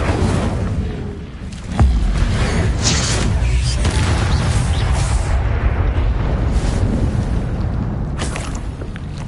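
A fire spell, Incendio, is cast in the video game Hogwarts Legacy, giving a loud, sustained roaring whoosh of flame that keeps up through the whole stretch, with a sharp burst near the start.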